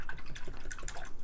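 A paintbrush swished and rinsed in water gives a quick burst of wet splashing and dripping, close and moderately loud.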